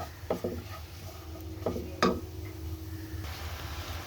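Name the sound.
stirring and frying dalia (broken wheat) in a pan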